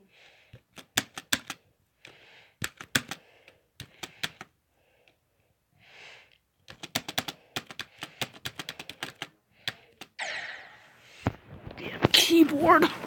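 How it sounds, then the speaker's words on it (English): Bursts of crisp computer keyboard typing, clicking keys in quick irregular runs with pauses between, close by, with a voice speaking briefly. "Tell me if you hear my keyboard."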